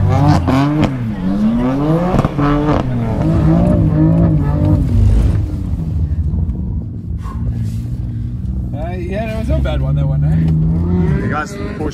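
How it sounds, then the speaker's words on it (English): A Porsche 911 GT2 RS race car at a gymkhana event, its engine revving up and down in loud, close sweeps while people talk and shout over it. "Porsche GT2. It's going to have a burn there."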